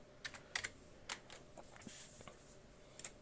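Typing on a computer keyboard to search Google, a few faint, quick key clicks in short uneven bursts with no talk.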